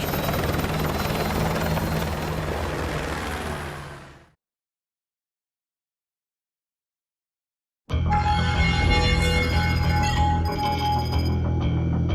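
Helicopter from the video game Call of Duty Modern Warfare 2, a loud steady rotor roar that fades out to silence partway through, then returns with a busy mix of rotor noise and game sounds.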